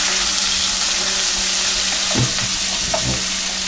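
Food fries in a pan with a loud, constant sizzle close by, and a couple of brief scraping stirs come through near the end.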